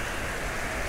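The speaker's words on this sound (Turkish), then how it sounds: "Yağmur yağdı." Steady rain pours down in an even, close, continuous hiss for the whole moment, with no voices or other sounds over it.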